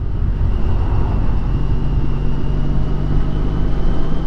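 A motorcycle engine drops down a gear while riding, a steady droning hum through wind and road rumble, loud and continuous with a faint shift in pitch.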